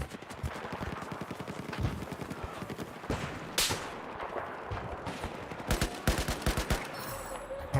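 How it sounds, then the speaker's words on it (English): Gunfire in Call of Duty Warzone rattles as rapid, repeated sharp bursts with some louder single cracks, four shots in quick succession among ongoing distant battle noise, fairly quiet overall. "4 shots in a row"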